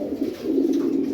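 A large male pigeon cooing close by, a low, continuous throaty coo with a soft rolling pulse, heard alone without talk.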